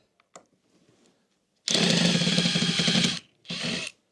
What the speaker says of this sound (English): Use the drill when we can.